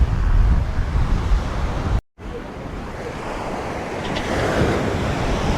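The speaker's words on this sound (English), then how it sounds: "the waves here are much more gnarly than back in Tamarama" Ocean waves break and wash onto Bronte beach in a steady roar, with gusts of wind buffeting the microphone and a brief dropout partway through, and no speech.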